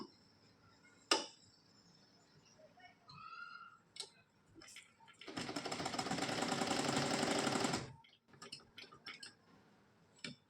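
A sewing machine stitches a dart in a blouse, running steadily for about two and a half seconds mid-clip, framed by scattered light ticks and clicks of handling before and after.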